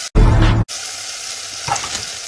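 Food sizzles in a saucepan with a brief burst of loud, broadband frying hiss, then a quieter steady crackle with a faint clink near the end.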